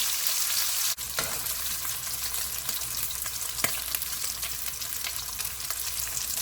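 Pork belly grilling in a pan until golden and crisp, giving a steady close sizzle and spitting fat, with a couple of sharp utensil clacks.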